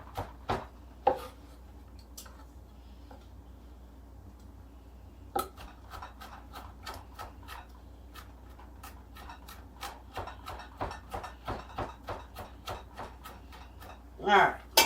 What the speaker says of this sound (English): now we're just gonna give these a rough chop